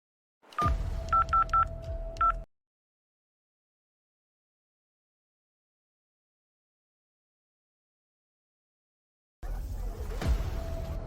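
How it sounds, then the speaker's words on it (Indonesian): A telephone is dialed with a quick run of keypad tones over a steady dial tone, then a long silence. A muffled line noise follows near the end. "Aku telepon mereka sekarang."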